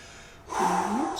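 A single loud, close breath from the person recording rises suddenly and holds for under a second, rough and airy like a sharp gasp or snort right at the microphone, with no talking.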